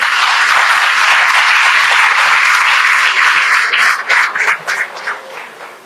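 Loud, dense applause from an audience at the inauguration ceremony of a national ophthalmology conference, holding strong before thinning into scattered claps and fading at the end.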